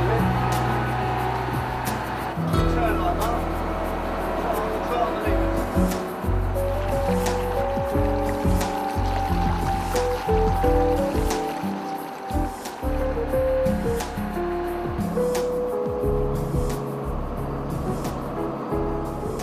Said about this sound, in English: It goes in, the front end of it lifts up, and next minute you're afloat.